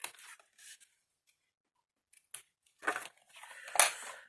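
Scissors snip and trim the tips of folded paper glue tabs, a few short, crisp cuts near and fairly quiet, separated by pauses, with a louder cluster of snips toward the end.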